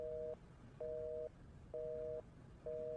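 Disconnected-line tone after a hung-up phone call: four evenly spaced steady beeps with short gaps, clean and moderately quiet over faint background hiss.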